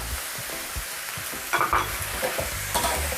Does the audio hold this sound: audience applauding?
no